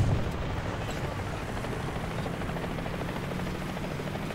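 A helicopter in War Thunder gameplay drones continuously with a dense, rumbling rotor sound, steady and fairly loud throughout with no talking.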